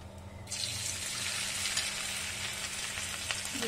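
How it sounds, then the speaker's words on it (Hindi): Potatoes drop into hot oil in a kadai for deep frying, setting off a sudden, steady, loud hiss of bubbling oil that continues close by, with no talking, for honey chilli potato. "हमने एक कढ़ाई में ऑयल को गरम कर लिया है अब हम इसमें ऐड करेंगे अपने पटेटो"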